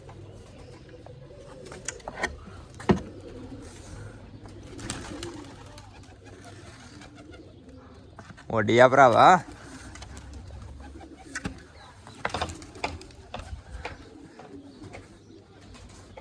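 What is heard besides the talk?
pigeons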